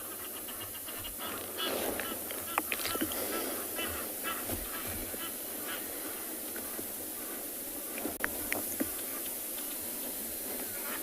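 Egyptian geese clash over a territory on a South African morning safari, giving faint, scattered honks and hisses over a steady hissing background, with a few louder calls standing out.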